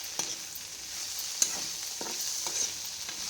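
Ridge gourd curry sizzles steadily in a pan with chilli powder added, while a utensil scrapes and stirs through it in several distinct strokes, close and fairly quiet with no talk.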